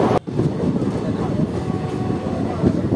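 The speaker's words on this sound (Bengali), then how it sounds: "আমাদের ট্রেন এসে পৌঁছেছে ব্যান্ডেল রেলওয়ে স্টেশন" Kaviguru Express passenger train arriving at Bandel Junction, a steady loud rumble of wheels and carriage noise heard from onboard, with a brief dropout near the start.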